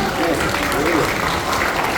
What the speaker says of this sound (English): Round of applause for her, everyone